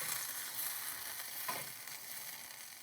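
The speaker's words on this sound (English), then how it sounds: "A little bit of tomato sauce. A little bit of parsley. And then stir attentively." A faint, even sizzle carries on without a break as a sauce of stock, tomato sauce and parsley cooks in a pan, with light stirring sounds now and then.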